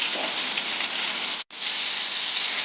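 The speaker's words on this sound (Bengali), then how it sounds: "চিংড়ি মাছটা ভাজছি" Prawns frying in a pan in a home kitchen, a loud steady broadband sizzle close by, with a brief drop to silence midway before the hiss resumes at full strength.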